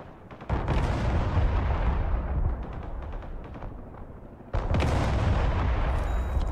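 Artillery fire in the video game Broken Arrow, heavy booming blasts with a loud burst near the start and another at about four and a half seconds, over a continuous rumbling battle din.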